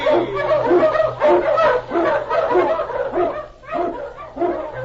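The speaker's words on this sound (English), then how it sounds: "King, the swiftest, strongest of Eskimo lead dogs, blazes the trail through storm and snow for Sergeant Preston" Eskimo husky sled dogs on a snowy Yukon trail bark and yip repeatedly in an excited, rhythmic chorus, close and loud, over a low steady hum.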